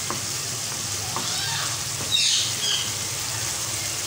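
Masala and butter frying in a pan for dal makhani, a steady close sizzle and hiss with occasional spoon scrapes and brief sharp spits, continuous and fairly loud.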